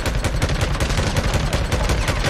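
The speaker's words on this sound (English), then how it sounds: "That's why we brought an MG45" MG45 machine gun fire in the video game Days Gone, rapid loud sustained bursts of shots in a fast steady rhythm, close and without talk.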